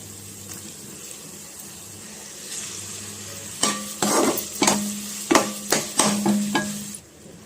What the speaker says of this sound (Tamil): வெங்காயம் சேர்த்துடலாம் ஸோ வெங்காயம் வந்து நல்லா வதக்கிக்கலாம்